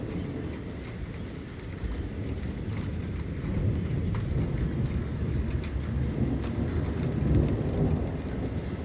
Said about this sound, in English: Another round of thunderstorms.